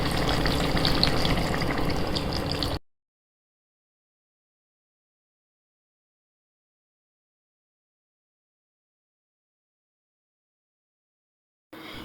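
A pan of vegetable bhaji simmers on a gas stove turned low after two cups of water go in. A soft bubbling sizzle lasts about three seconds, then silence, and it briefly returns at the very end.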